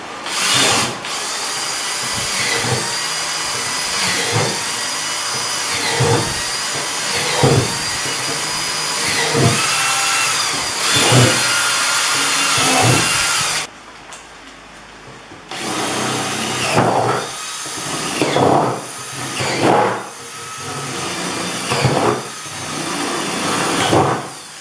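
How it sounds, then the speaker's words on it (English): A power drill whirs steadily, bursting and easing in short repeated pulses as it bores a small hole through a plastic bin, with a brief pause partway before drilling resumes. "Drill a small hole, and then I'll put 12 millimeter after that."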